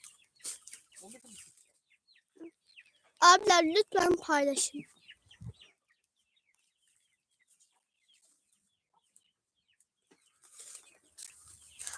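A chicken clucks loudly up close in a quick series of rising calls, with scattered faint sounds and brief talking before and after.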